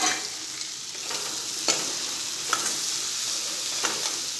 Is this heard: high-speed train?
no